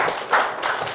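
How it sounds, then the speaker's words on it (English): Applause from an audience at a tech talk, a short, dense patter of clapping with a brief swell, lasting about a second. "Another round of applause, please."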